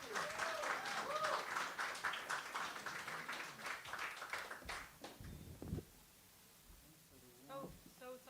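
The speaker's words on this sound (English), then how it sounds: "Please give a round of applause for Noam." A small open mic crowd applauds to welcome a performer, dense clapping for about five seconds that then thins out, followed by quieter room sounds and a few brief voice fragments.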